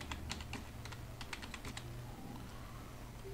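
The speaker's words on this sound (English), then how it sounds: "Now you have to type" Rapid keystrokes on a computer keyboard entering Windows commands, a quick cluster of sharp close clicks followed by a few scattered taps, then quiet room hum, with no one speaking.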